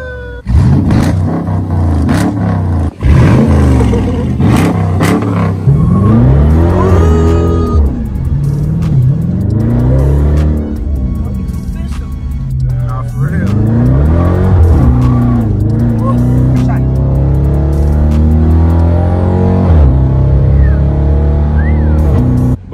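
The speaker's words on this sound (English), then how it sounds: "rev that bitch one time, Elijah" A Dodge Charger Daytona engine revs loudly and up close, rising and falling in repeated surges over a steady idle rumble, with occasional faint voices underneath.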